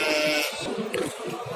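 A single short bleat from a sheep at a livestock market in Özgön, Kyrgyzstan, where fat rams are on sale, is heard close by against background noise from the crowd.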